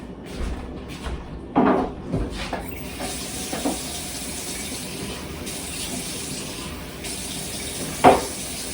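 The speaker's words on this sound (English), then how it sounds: "I'm going to fill this up with the tap water" A kitchen tap runs steadily, filling a container with tap water for a home water distiller, a continuous hiss heard close with a few clunks and knocks of handling over it.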